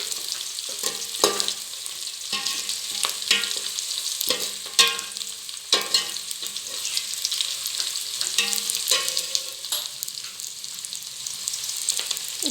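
Ingredients for a raw jackfruit biryani sauté in a pan with green chilies, giving a continuous close sizzle broken by frequent spatula scrapes and stirring strokes, with no speech.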